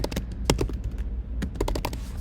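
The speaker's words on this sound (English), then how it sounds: "You would just hit enter on your keyboard and you would go down and you can continue to type" Rapid keystrokes on a computer keyboard clatter close by in uneven bursts with a short pause midway, with no talking.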